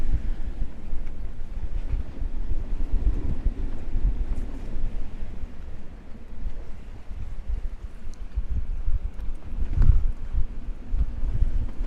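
Strong wind of about 25 knots blows over a channel at sea aboard a boat, a loud, gusting low roar buffeting the microphone continuously, with surges and no voices.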